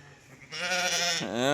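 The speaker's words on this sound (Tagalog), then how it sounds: "Kambing yan." A goat lets out one loud, close, wavering bleat lasting about a second, preceded by a quieter moment. The call rises and wobbles with a strong nasal quality.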